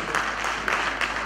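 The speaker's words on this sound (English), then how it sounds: "So we need to clap for them." Audience applause at a virtual graduation ceremony, a steady wash of many hands clapping at moderate level with no voices over it.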